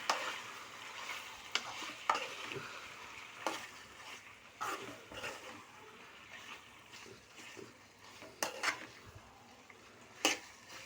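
Chicken curry sizzles quietly in a pan as a spoon stirs it, giving intermittent scraping clinks and soft bubbling against a low, faint background.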